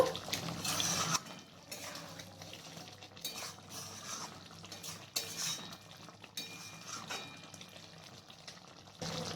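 A spoon stirs garam masala into a soybean curry in a pan, with repeated metallic scrapes and clinks against the cookware in an uneven rhythm, close-up and moderately quiet, with soft wet sounds in between.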